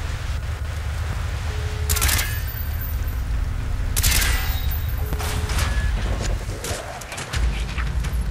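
Gunfire in the Call of Duty Black Ops video game: loud sharp shots crack out around two and four seconds amid a steady rumbling battle din, with smaller scattered reports following.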